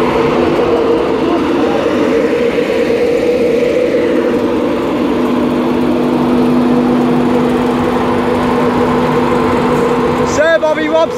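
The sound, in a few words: Class 91 electric locomotive 91-109 departing station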